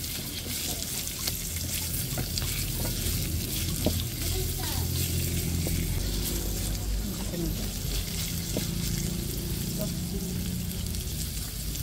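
Sliced white onions sizzle steadily in a frying pan alongside squid, a continuous close hiss of frying with faint clinks of stirring throughout.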